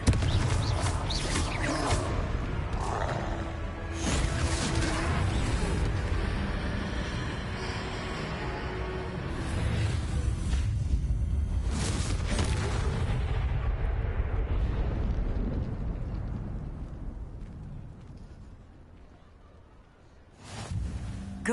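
Confringo fire spell blasting at a troll in Hogwarts Legacy, a loud sustained fiery roar and rumbling explosions with whooshing bursts, fading out before a final sharp burst.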